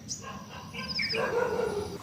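A village dog gives a few short, moderately near yelps and whining barks over faint background noise, with no talk.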